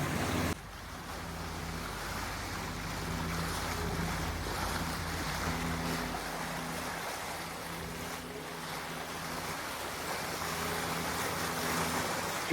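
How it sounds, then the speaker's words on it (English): Dufour 52 sailboat motor sailing on the Sea of Cortez toward La Paz, a steady low engine drone beneath rushing water, wave wash and wind buffeting the microphone, with no voices. "Motor sailing back to La Paz Saturday morning"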